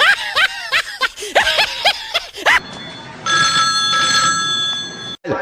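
A mobile phone rings with a chirpy, melodic ringtone that repeats after snickering laughter, loud and close, with a brief pause near the end.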